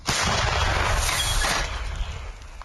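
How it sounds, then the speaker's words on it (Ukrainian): A loud, heavy mortar blast with a sharp onset and a long rumbling, roaring tail, sustained and close, with no other sounds around it. "Увага! Постріл!"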